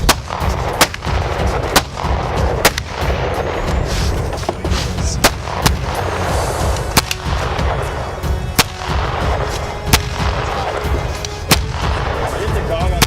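Loud gunshots fired at a cheap action camera ring out outdoors, sharp single reports at irregular intervals of one to two seconds over steady wind and rumble.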